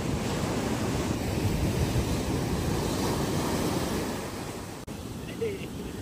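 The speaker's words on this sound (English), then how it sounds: "there is a ton of wind and a ton of sea here" Strong wind and sea waves at a beach roar together in a constant loud rush of surf and microphone wind buffeting, easing slightly near the end.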